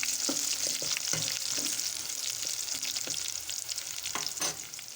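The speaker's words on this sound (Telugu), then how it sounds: "ఇప్పుడు ఉప్పు మిరపకాయలు వేసుకొని ఎర్రగా ఫ్రై చేసుకుందాం." Red chillies and salt fry with onions in hot oil, a dense, bright sizzle right up close, punctuated by several sharp scrapes and taps of a spatula.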